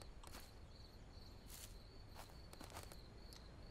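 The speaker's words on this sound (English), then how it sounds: "I'm hearing crickets" Crickets chirp at night in the survival game The Last Plague Blight, a faint, steady high trill running throughout with a few brief soft rustles or footsteps now and then.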